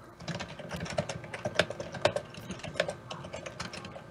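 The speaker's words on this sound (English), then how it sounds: "They can hear you typing." Typing on a computer keyboard heard over a voice call, a quick irregular patter of sharp key clicks at moderate distance with a soft background hum.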